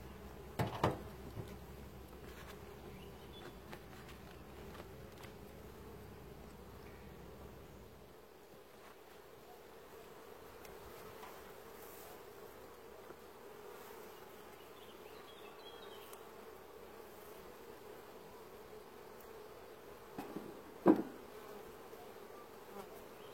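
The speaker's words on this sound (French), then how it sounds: "Chargée d'abeilles dans la housse." Honey bees swarming over a hive cover, a steady dense buzzing hum that carries throughout, with a few brief handling knocks near the start and a sharp clunk toward the end.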